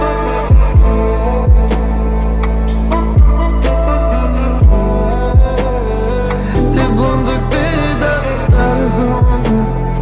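Kick drum pulsing in a song mix with its low end boosted around 80 Hz, a deep, heavy thump recurring roughly every second beneath sustained music, loud and up front with no voices.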